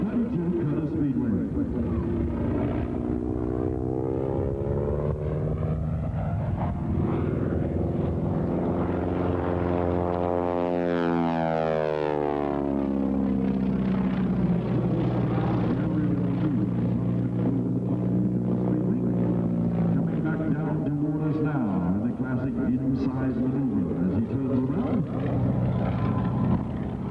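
A 1932 Curtiss-Wright B-14B Speedwing propeller plane passes by in a single loud flyby. Its engine drone rises as it approaches, then sweeps down in pitch and fades as it flies away over a steady background of noise.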